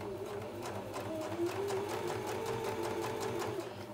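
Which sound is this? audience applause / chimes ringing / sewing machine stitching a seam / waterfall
sewing machine stitching a seam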